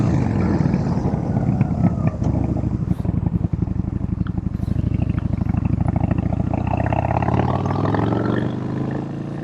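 A Yamaha Bolt 950 cruiser motorcycle engine rumbles steadily at idle, a loud, deep, continuous throb with a slight rise in revs before easing off near the end.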